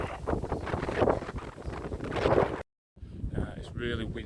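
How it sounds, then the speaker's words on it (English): Strong wind gusts buffet the microphone at the start of the South West Coast Path toward Bossington. A loud, continuous rumbling roar cuts out briefly midway, then resumes. "It's really windy"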